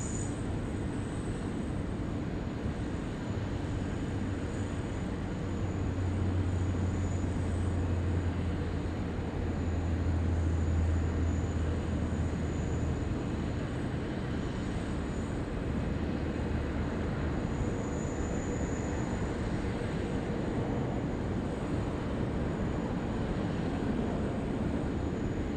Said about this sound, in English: Our Delta A350 arrival. Coming in from Los Angeles this morning.